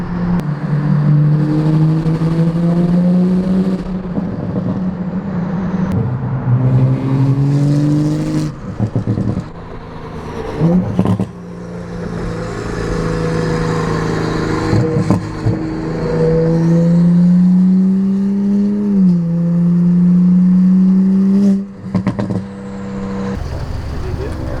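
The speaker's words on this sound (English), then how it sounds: "Dude, 50-mile-an-hour rolling burnout" A tuned 2020 Toyota Supra with an E50 tune does a 50 mph rolling burnout, its engine droning loudly at high revs with rising and dipping pitch, punctuated by brief shifts, while people talk over it.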